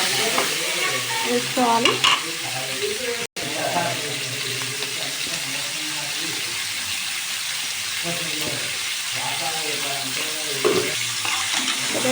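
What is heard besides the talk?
frying pieces in a pan, chili powder added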